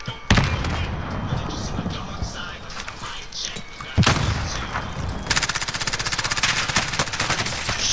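Rapid automatic gunfire in Call of Duty Modern Warfare Warzone, loud bursts and single shots cracking in quick succession, with a sharp burst midway and a sustained rattling volley near the end.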